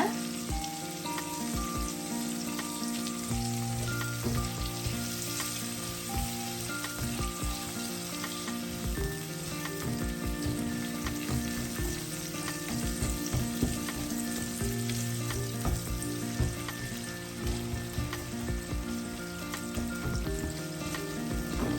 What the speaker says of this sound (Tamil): ஒரு 2 நிமிஷம் விடுவோம் வதங்குறதுக்கு